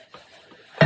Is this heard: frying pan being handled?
yes